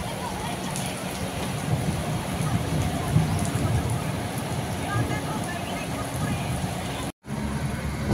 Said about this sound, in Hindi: बरसात आ गई है